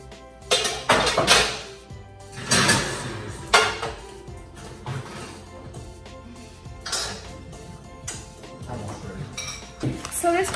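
Pots and pans clank and clink as cookware is pulled from a home kitchen oven before baking, with several loud metallic bursts spread across the stretch and quieter rattles between, alongside voices talking.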